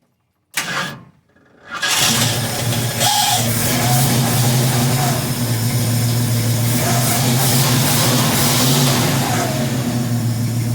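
A brief starter crank and a sputter, then an old car engine, unrun for 14 years and leaking at the accelerator pump, catches and settles into a loud, steady rumbling run that continues to the end.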